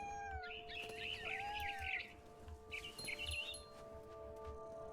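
A barn swallow chirps in quick, bright twittering bursts in the video game What Remains of Edith Finch, fairly close and mixed with a cat-like mewing cry over a low ambient bed.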